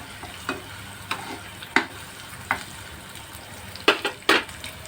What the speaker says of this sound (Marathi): आपण कढईमध्ये तेल घालून कांदा घातलेला आहे. तो आता कांदा परतून घ्यायचा.